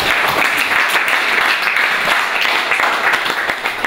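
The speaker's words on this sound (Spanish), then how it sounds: "un gran aplauso a Jimena, que ha se ha prestado para ayudar." An audience breaks into sustained applause at a lecture, dense steady clapping filling the room for several seconds before tapering slightly at the end.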